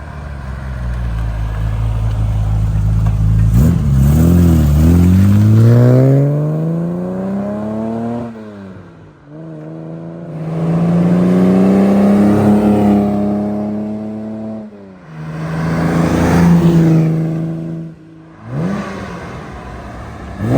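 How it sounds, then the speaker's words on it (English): A 1962 Aston Martin DB4 Series 4 Special Series convertible makes repeated flybys. Its engine note swells as it revs and climbs through the gears, sweeps past loudly and fades away between passes, with no talking. "I think these DB4s sound glorious"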